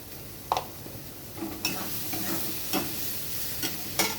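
Lote fish coated in lemon juice sautés in a pan, with a steady sizzle of frying and occasional scraping clinks of a spatula against the pan, close and moderately loud, with no talking.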